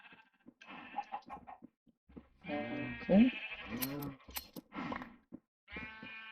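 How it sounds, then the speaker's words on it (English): Minecraft sheep being sheared bleat several times in short, nasal calls with gaps between them, fairly close and clear, and a brief spoken word comes in between. "let me shear a couple sheep while we're here"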